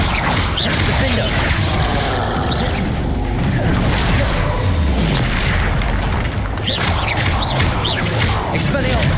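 Loud, booming spell explosions from the Confringo curse in the video game Hogwarts Legacy, repeated crashes and bursts amid dense combat effects, with a voice casting spells over the chaos.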